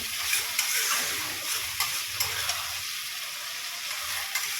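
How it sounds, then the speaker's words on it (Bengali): Spice paste with a little sour yogurt and onion pieces being sautéed for paper chicken, giving a steady close sizzle with scraping stir strokes and occasional ticks of a spatula against the pan. "এবার আমি মশলাটা ভালো করে কষিয়ে নেব"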